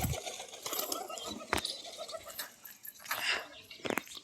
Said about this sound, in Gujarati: બધા કબૂતરને સામે મોકલી દઉં છું